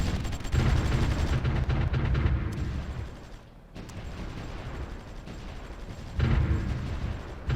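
Continuous rumbling artillery fire from the strategy video game Supreme Ruler Ultimate, dense booming barrages that dip briefly midway before surging back loud.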